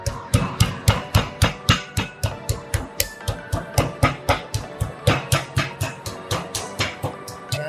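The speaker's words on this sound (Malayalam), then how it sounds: "ഹാമർ വെച്ച് ജസ്റ്റ് അടിച്ച് തന്നെ സോഫ്റ്റ് ആക്കാൻ പോവുകയാണ്" A meat hammer pounds chicken to tenderize it, producing a steady run of loud, close, evenly spaced thumps, roughly three or four blows per second, with no voices.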